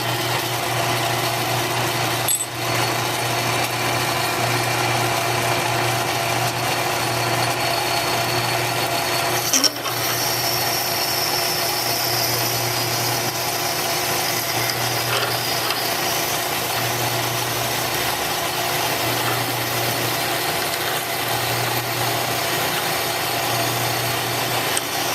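Drilling into a metal part for a wood chipper engine bushing, a steady, continuous whirring drone lasting throughout with a couple of brief clicks, moderately loud in a workshop with no talking.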